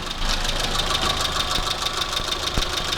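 A Proton Wira engine idling nearby, a steady rhythmic chugging with a faint tick and hum, no voices.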